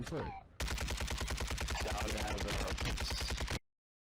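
Rapid automatic gunfire sprays in Warzone, a dense burst of closely spaced loud shots lasting about three seconds after a brief lead-in, then cutting off abruptly.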